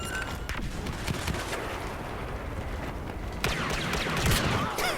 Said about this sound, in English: right now, I'm actually shooting Han Solo with his own blaster rifle